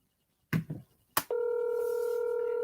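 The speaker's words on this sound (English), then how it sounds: "Let me see if I can call Ty and see if he'll answer the phone" A phone call being placed: a couple of short handling clicks and a sharp tap, then a steady, loud ringback or dial tone that holds unbroken to the end, with no talking.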